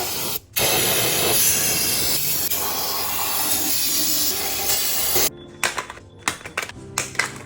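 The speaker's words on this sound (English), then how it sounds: "Bit of brake cleaner action." Brake cleaner hisses in a long, loud continuous spray over an engine valve cover area on a junkyard Infiniti G35, then breaks into several short bursts with clicks between them.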